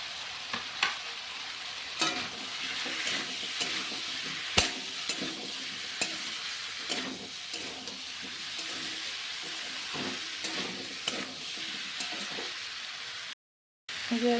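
Fried shrimp and slit green chillies stirred in a pan for a Bengali sweet-pumpkin prawn dish: a steady sizzle of frying throughout, with repeated scraping stirring strokes and a brief silent gap near the end.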